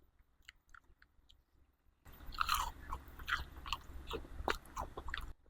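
Crunchy home-grown vegetables are bitten and chewed close to the mic. After two quiet seconds come loud, crisp crunches and a steady run of wet, crackling chewing with no talking.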